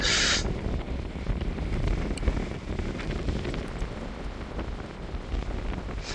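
Strong wind roars steadily across the microphone, a dense low rumble with gusty buffeting throughout and no voices.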